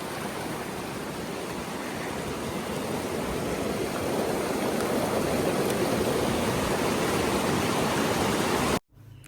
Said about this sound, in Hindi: इतना पानी का शोर आ रहा है